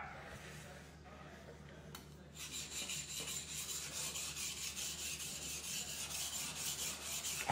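A knife blade is worked on a sharpening stone for polishing, with a steady repeated rasping scrape that builds and grows brighter midway; the strokes are close and continuous.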